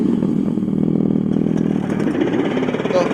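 Simulated engine note from a Revolt RV400 electric bike's built-in speaker, a steady rumbling motorcycle-like drone that holds evenly and loud for about three seconds, with no voices.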